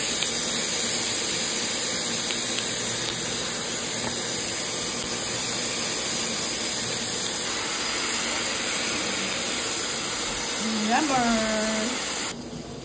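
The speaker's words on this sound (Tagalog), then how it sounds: "So, i-grilled na natin siya. Pan-grilled lang to guys." Pork belly liempo pan-grilling gives off a steady, even hiss of sizzling fat that carries on unbroken, with a brief voice near the end before it cuts off.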